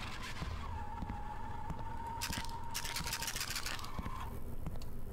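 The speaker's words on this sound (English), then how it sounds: "like a remote control car." Whirring mechanical noise like a remote control car in the Tattletail horror video game, a steady tone over rumbling background with bursts of scraping texture.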